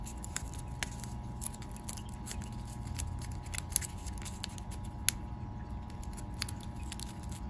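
Origami paper is folded into a three-dimensional Amabie yokai figure. Soft, close paper crinkles and sharp creasing ticks come at irregular intervals over a quiet room hum, with no talking.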